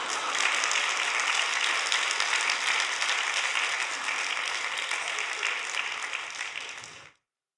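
Applause from a congregation in a church during an anniversary revival service, a sustained dense roar of clapping holding steady for about seven seconds before cutting off abruptly.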